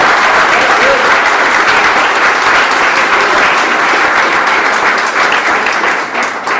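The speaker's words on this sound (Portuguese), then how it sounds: "aplaude o Senhor" Dense, sustained applause from a church congregation during a sermon, loud and steady throughout with no break, fading slightly at the very end.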